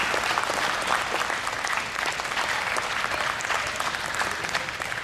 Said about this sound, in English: if we could give a round of applause to the volunteers for FunTeam as well